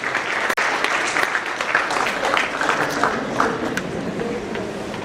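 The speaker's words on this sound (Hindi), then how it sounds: "जोरदार तालियां इन सभी बच्चों के लिए एक बार फिर से।" A room full of people applauds students at a motivational seminar at an IIT coaching academy, loud sustained clapping with a sharp knock near the start.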